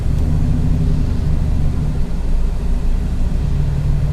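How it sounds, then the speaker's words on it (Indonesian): A loud, deep exhaust rumble from a V8-swapped Daihatsu Xenia, a stock-bodied sleeper car, droning steadily and up close without letup. "ini Xenia tapi kok knalpotnya menggelegar banget."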